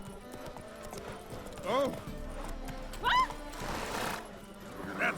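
Roach, the horse in The Witcher 3, clip-clops steadily with several short whinnies, close and clear, while someone talks over it.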